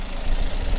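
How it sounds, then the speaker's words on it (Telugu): The engine of a 2022 Maruti Ertiga VXI CNG idles quietly with a smooth, even hum, close by and steady throughout the brief moment, with no talking. "ఇంజన్ సౌండ్ మాత్రం సైలెంట్ ఉంది"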